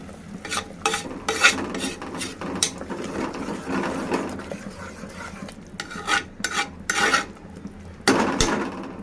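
Drumstick leaf dal with tomato and turmeric is stirred in a pot, with irregular scraping strokes and soft sizzling that come in close bursts and pauses.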